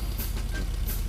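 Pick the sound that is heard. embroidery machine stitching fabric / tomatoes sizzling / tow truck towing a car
tow truck towing a car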